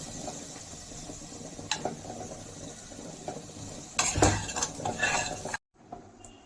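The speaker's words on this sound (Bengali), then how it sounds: "ভেজে রাখা বাদামগুলোকে দিয়ে 1 মিনিট ফ্রাই করে নামিয়ে নেব।" Flattened rice poha with roasted peanuts frying in a pan, a soft steady sizzle with metal spatula scrapes and clanks that grow busier toward the end before cutting off abruptly.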